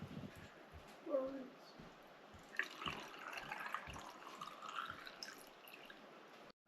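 Vinegar and water, mixed about half and half, are poured for pickling eggs. Faint, quiet liquid trickles and drips come from close by, with a few soft splashes over a low background.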